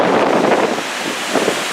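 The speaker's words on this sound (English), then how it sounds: "listen to the ship sail through the water" The Allure of the Seas cruise ship sails at sea, its wash rushing steadily and loudly past the stern, heavily blended with gusty wind buffeting the microphone.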